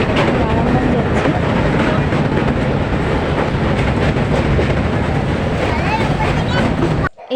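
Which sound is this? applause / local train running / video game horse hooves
local train running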